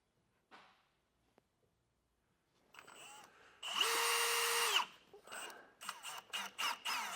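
A power drill with a 21/64 bit bores holes for self-tapping screws while a leaf spring suspension kit is installed on a vehicle. After faint handling noises, it whines steadily for about a second, then gives several short, choppy bursts.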